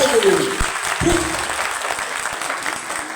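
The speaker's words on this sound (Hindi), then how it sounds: "जोरदार तालियां हमारे नए साथियों और पुराने के लिए।" An audience at a Vestige business meeting in a hall breaks into applause, a close, steady burst of many hands clapping that gradually thins, with a speaker's voice heard briefly at the start.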